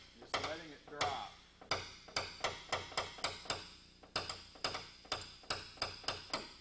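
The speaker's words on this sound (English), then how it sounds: "I'm just barely lifting the hammer above the tapper. Just letting it drop." A hammer taps lightly on a paintless dent repair tapper again and again in a steady, even rhythm, barely lifted and let drop, with a brief pause midway. The close, crisp taps continue throughout.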